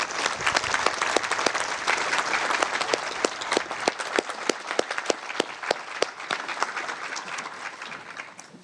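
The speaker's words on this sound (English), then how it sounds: "Please join me in a round of applause for all our honorees." Police memorial audience applauding honorees at a Hampton Police Division memorial event: a loud, dense round of clapping from a large crowd that thins into sharper, scattered individual claps before fading out.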